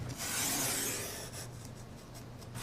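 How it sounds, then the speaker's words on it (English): A blade cuts cardstock along a score line for a trifold shutter card, making a faint, close, dry scraping rasp that swells and then fades over a couple of seconds. "you take and cut all the way down from the 2 inch to the 10 inch score line"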